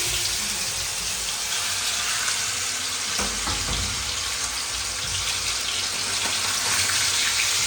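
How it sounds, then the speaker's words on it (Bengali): Chicken pieces fry in hot oil in a pan, a loud, dense and unbroken sizzle that roars steadily throughout at close range, with no voices. "ভালোভাবে লাল করে ভেজে নেব মাংসটাকে"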